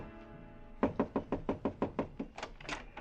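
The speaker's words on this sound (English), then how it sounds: "I stopped in front of room 300 and knocked." Knocking on a hotel room door in a 1950 radio drama: about ten evenly spaced knuckle raps, crisp and fairly close, following a brief stretch of quiet with a faint low tone underneath.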